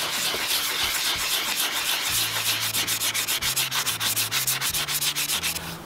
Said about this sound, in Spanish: voy a utilizar una lija primero de 400 con algo de agua y después voy a lijar con una de 600